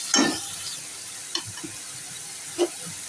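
Water is poured into a pan of taro curry, which sizzles with a short hiss. A few soft utensil clinks and stirring scrapes follow, close and fairly quiet, with no speech.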